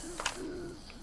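A large vulture bird in the 7 Days to Die game gives a short cooing call, a brief tonal cry with a sharp click near the start, heard alone over a steady game background hiss.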